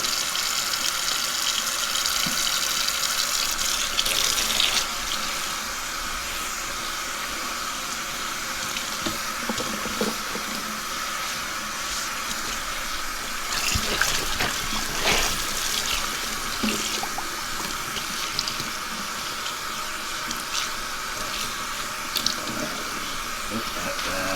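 Water runs steadily from a sink tap onto a scrunch tie-dye tee dyed deep orange, fire red and golden yellow while it is rinsed, a continuous close splashing stream with occasional louder surges and handling.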